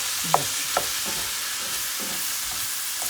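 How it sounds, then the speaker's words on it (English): Steady sizzling of onions and garlic frying in a pan, with a few soft scrapes and stirs as it cooks. "You can't go wrong with the smell of onions and garlic frying together."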